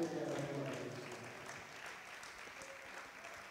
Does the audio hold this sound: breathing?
no